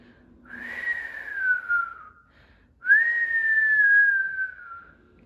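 A voice whistles two long, gliding notes imitating wind, each starting high and sliding slowly downward, with a short pause between them.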